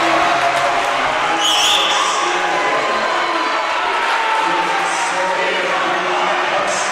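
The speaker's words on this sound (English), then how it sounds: "the crowd chanting from Cienega across the way" Crowd noise fills a high school volleyball gym at the 5A state finals between Cienega and Horizon Honors, a steady roar from Cienega's fans across the court with a few brief higher cheers rising through it.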